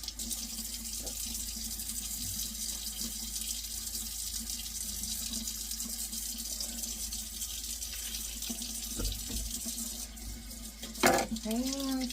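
Kitchen tap water runs steadily while vegetables for a slow-cooker beef stew are rinsed, a constant hissing stream with brief clunks and splashes of handling near the end.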